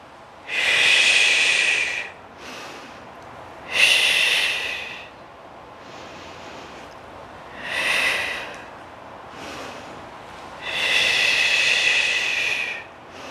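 Controlled breathing during a traditional mat Pilates exercise: several loud, airy breaths sounding close up, each lasting one to two seconds and separated by quieter gaps, with no speech.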